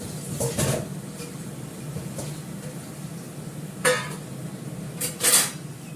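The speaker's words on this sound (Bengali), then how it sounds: "ভালো করে কষাবো কাঠের খুন্তি দিয়ে।" A wooden spatula scrapes and stirs papaya and potato with turmeric and salt in a pan, giving a few distinct clinks and scuffs against the metal amid quiet background noise.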